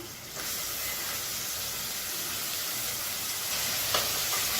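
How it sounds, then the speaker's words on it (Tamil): Finely chopped medium tomato sizzling in hot oil in a pan after ginger-garlic paste, a steady loud frying hiss throughout with a slight stir noise near the end. "இப்போ மீடியம் சைஸாக ஒரு தக்காளி பொடியாக கட் பண்ணதை சேர்த்துக்கலாம்"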